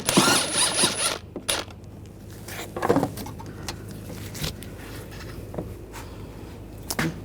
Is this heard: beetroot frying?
no